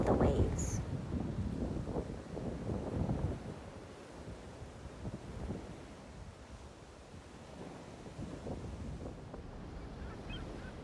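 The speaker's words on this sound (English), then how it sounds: "listen to the sound of the waves" Ocean waves wash onto a beach in steady wind, a soft continuous surf rush with gentle swells, slightly stronger at the start and quiet throughout.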